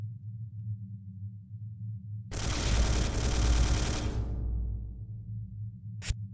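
A loud burst of rapid automatic gunfire erupts from the Space Hulk video game, rattling for under two seconds before fading. A single sharp shot follows moments later against a low background hum.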